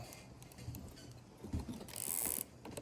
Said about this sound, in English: Then you can use the wrench to finish it.